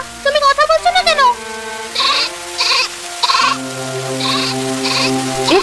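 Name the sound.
goat crying out from its shed, cartoon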